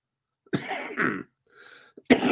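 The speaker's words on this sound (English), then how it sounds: "Getting a little bit of a cough here." A person coughs several times in short, close bursts with brief gaps, ending in one sharper cough, with no talking around it.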